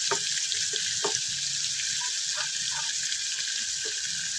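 Boiled mung beans with their cooking liquid are poured into a pot, a continuous close, watery splashing rush with a few small knocks.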